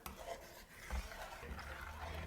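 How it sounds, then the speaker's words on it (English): A spoon stirs a milk and sugar mixture for a royal bread pudding, making soft, quiet swishing and scraping sounds close up with faint knocks against the pot. "I'm just going to mix the mixture."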